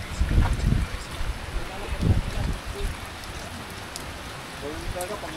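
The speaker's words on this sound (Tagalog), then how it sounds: "Hindi pa rin tumitigil yung ulan." Heavy typhoon rain from Crising pours down on a farm in a dense, continuous wash, with low gusty thumps of wind buffeting the microphone early on.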